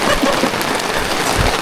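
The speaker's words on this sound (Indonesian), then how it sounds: "Terus akhirnya hujan kita." Steady rain falls on a closed, easily-lost trail up Mount Lawu via Jogorogo, a close, continuous dense patter with no voices.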